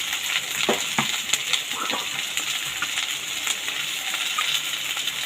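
Vegetables frying in a pan with turmeric and salt, a steady bright sizzle with a few clinks and scrapes of stirring close up.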